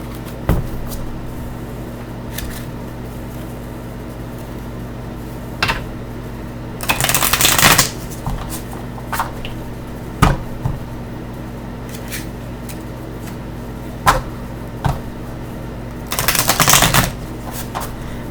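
Tarot cards shuffled in a quiet room, mostly soft handling and scattered clicks, with two loud riffling bursts, one around the middle and another near the end; no talking.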